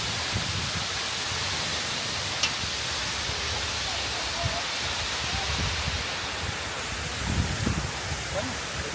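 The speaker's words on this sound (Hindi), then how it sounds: "ये हम पहुँच गए यहाँ पे वाटरफॉल में" Steady broadband rushing water from Birthi Falls in Munsyari, India, heard from close by, with faint voices now and then underneath.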